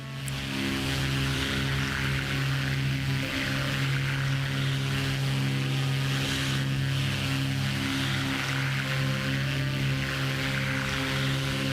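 A Black Square Grand Duke twin-engine aircraft in flight in Microsoft Flight Simulator 2024, its steady propeller drone and engine hum holding loud and constant throughout with no talk.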